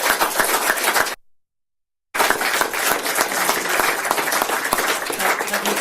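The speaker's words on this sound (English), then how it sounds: "I think he deserves a massive round of applause." Loud, dense audience applause at a political event on energy in Aberdeen, continuous clapping broken by a sudden second of silence before resuming.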